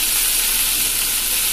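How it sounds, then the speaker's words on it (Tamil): Cut sundakkai (turkey berry) sautéing in a pan for chutney, giving a steady, loud, dense hiss of frying oil throughout with no talk. "இந்த கட் பண்ணி வச்ச சொண்டக்காவை இதில் போட்டுருவோம்"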